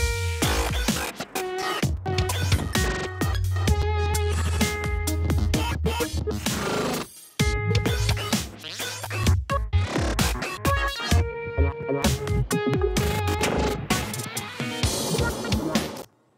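Choppy glitch electronic music made in Ableton with short envelopes, stuttering, chopped-up synth tones and a deep bass line, briefly cutting out near the middle before resuming.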